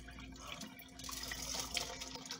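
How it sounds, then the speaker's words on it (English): Water is drained off rinsed rice, about two cups, in a kitchen, making a faint trickling and splashing that swells softly, heard close with no talking. "Drain most of that water off."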